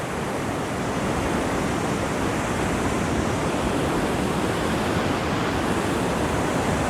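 Ocean surf on a beach sounds as a continuous, even roar of washing water with no breaks and no voices.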